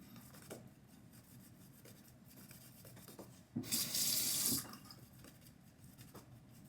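Razor rinsed under a running tap, a close burst of rushing water lasting about a second over a quiet background with faint handling noises.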